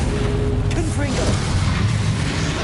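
Confringo spell explosion in the Hogwarts Legacy video game, a muffled boom and rumbling burst lasting a couple of seconds, moderately loud with game sound effects layered over it.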